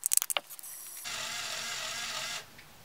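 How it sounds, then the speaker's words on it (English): A motorized LEGO Volvo L350F wheel loader starts with a few quick clicks and clacks, then its small electric motor whines steadily for over a second as it strains lifting a stack of Jenga blocks, fairly faint and close. "I can hear the motor slowing down a little bit, but still, it can lift 20 Jenga blocks"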